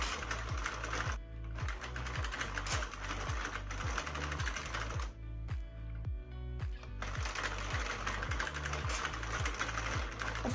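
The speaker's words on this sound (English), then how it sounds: "That's the only thing with these knitting machines is you keep winding the handle" The handle of a knitting machine is wound continuously with DK yarn, giving a fast, steady mechanical clatter of carriage and needles with two short pauses.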